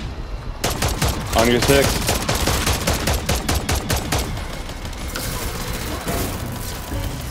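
Rapid bursts of automatic gunfire and booms in the Call of Duty video game, dense and loud throughout, with players talking over the shooting.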